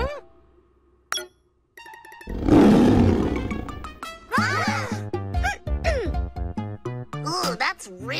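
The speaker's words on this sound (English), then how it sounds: "Ooh, that's really loud and rumbly. Like a tiger's roar." Loud, rumbly monster growl sound effect resembling a tiger's roar, starting after a short tone and chime, then swelling into a long growl followed by bright cartoonish warbling sounds in a children's animated show.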